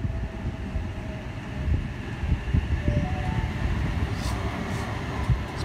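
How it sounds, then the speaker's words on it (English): A Sydney H-set train arriving at a Redfern Station platform on a Kiama service, with a steady low rumble and rolling wheel noise and faint squeal, close by and fairly loud. "Kiama service arriving into platform number 2"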